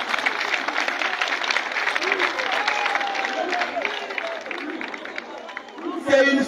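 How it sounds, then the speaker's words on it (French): A gathered audience applauds for Ndolo, a dense, steady wash of clapping mixed with crowd babble and some voices, tapering slightly before a louder closing burst. "Alors applaudissons tous pour Ndolo."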